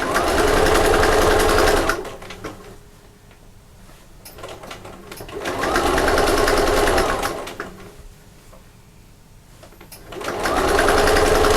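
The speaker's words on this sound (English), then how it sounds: "And do a second row stitching." A sewing machine stitches a second row on a sewing machine cover, running in three loud, steady whirring bursts with quiet pauses between them.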